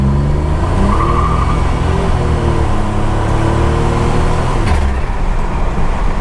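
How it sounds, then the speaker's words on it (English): A 1987 Buick Turbo T engine revving under brake boost, a loud, close, sustained drone with shifting harmonic tones that rise and hold, then release with a brief change near the end. "I'm gonna brake boost it at a roll and then let it go"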